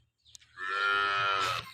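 A local cow from the Banaskantha area around Tharad and Dhanera talukas, of a heat-tolerant breed, gives one long, loud, steady moo lasting about a second, close by with no talk over it.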